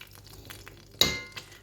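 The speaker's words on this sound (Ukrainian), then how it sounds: "Отак ложкою розправляємо, розправляємо сметанку." A metal spoon works sour cream over rabbit pieces in a cooking pot: quiet soft scraping, then one sharp clink of spoon against the pot and a fainter tap after.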